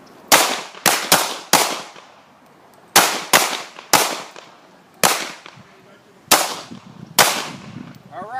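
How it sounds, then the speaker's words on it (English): Handgun shots ring out at a concealed handgun class range, sharp loud reports fired in quick groups of two and three with short pauses between volleys, outdoor echo trailing each shot. "Stand by. Fire. 3 rounds."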